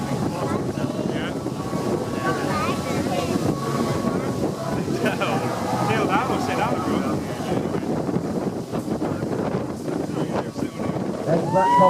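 Steady wind gusts over the water at a jet ski racing and freestyle course in Doncaster, a continuous rushing roar buffeting the microphone beneath a commentator's ongoing speech and distant engine noise.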